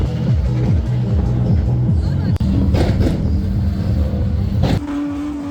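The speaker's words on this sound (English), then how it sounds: "That's Ethan Lowry there in that twin cam" A twin cam rally car at a motorsport event drives past with a loud, rasping engine note that swells and fades, over crowd babble and people talking nearby.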